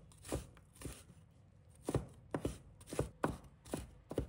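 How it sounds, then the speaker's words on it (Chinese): Flattened fresh ginger minced with a knife on a board, a run of sharp close chopping strikes in uneven bursts with brief pauses. "把生姜也拍扁，然后切成末"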